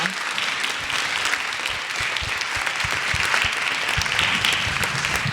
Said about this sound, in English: let's give another round of applause to our fabulous panel